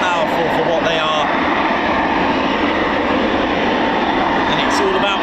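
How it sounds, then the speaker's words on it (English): The twin EJ200 jet engines of a Eurofighter Typhoon FGR4 at RAF Coningsby roar in a loud, steady, broadband rush that holds level throughout with no pause. "that's the wonderful EJ 200 engines that you can hear running"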